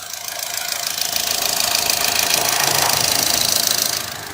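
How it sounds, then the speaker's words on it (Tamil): A 2022 Honda Amaze manual petrol engine idles steadily close by, a continuous mechanical hum with a fast knocking rhythm, no voices. "இன்ஜின் வந்து இப்போது ரன்னிங்கில் தான் இருக்குது. இன்ஜின் நாய்ஸ் கேட்குறீங்களா?"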